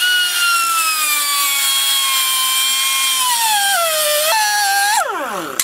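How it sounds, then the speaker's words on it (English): Air grinder cutting into a steel wheel bearing race, a loud continuous high-pitched whine whose pitch sags gradually under load and then drops sharply as it spins down at the end. "get an air grinder and cut the race in half"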